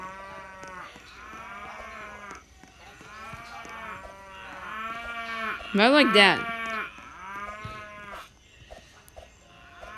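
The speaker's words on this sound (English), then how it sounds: "Oh, is that cows? They're a cow." Cows moo in a video game, a series of drawn-out calls with one louder, higher moo near the middle, while a person speaks briefly.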